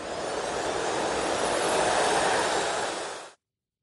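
A jet aircraft sound effect roars as a cartoon cat's jet takes off, a loud broadband whooshing rush that swells steadily then cuts off abruptly, heard alone without talking.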